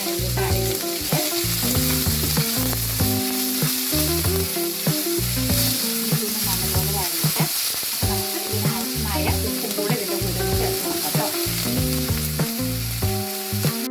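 Ginger, garlic and onion fry in oil with a loud, continuous sizzle and crackle and occasional stirring scrapes, over a steady, rhythmic music track.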